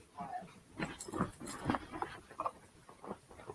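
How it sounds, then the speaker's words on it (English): A pet dog moves around indoors, giving soft patters, snuffles and small whimpering noises close by, with quiet, irregular rustling and no barking. "I'm going to let my dog back in. And if he starts barking again, he's out."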